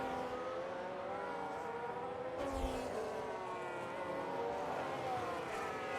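Race cars in a sim racing game sweep past on the Singapore street circuit, with a steady, fairly loud engine drone that swells briefly as one car overtakes another mid-way.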